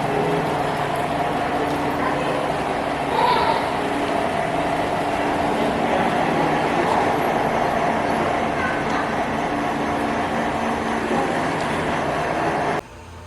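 A model train in an indoor train room rumbles and clatters steadily on its track for several seconds, then the running noise drops away abruptly at the very end.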